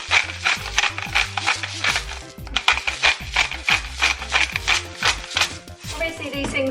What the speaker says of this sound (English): a good grind of black pepper